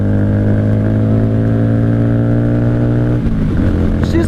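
A 1995 Honda Shadow VLX 600 V-twin motorcycle engine runs loud and close with a steady, deep, throbbing drone. Near the end the note drops and turns rougher as the revs change.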